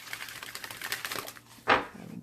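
Tarot cards are riffled in a rapid run of soft papery flicks, then there is a short pause and one louder burst as the deck snaps together near the end.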